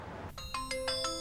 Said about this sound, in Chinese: 我又挂电话，我给吴英打。